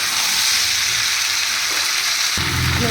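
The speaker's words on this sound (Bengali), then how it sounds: "এবার এই আলুগুলো দিয়ে দিয়েছি, আলুটাকে আমি ভালো করে কষিয়ে নেব।" Potatoes for aloo dum sizzle steadily in a small amount of spiced oil, a loud, constant frying hiss, with a brief stirring scrape near the end.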